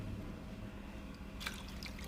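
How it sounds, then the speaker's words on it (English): Lemon water poured from a measuring cup into a mixing bowl for homemade lemonade, a soft continuous trickle with a brief splashier patch midway, quiet and close. "we're going to go ahead and add the lemon water"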